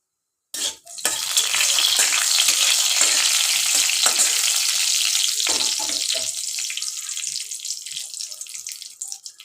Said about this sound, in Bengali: একটা লঙ্কা ফোড়ন দিলাম।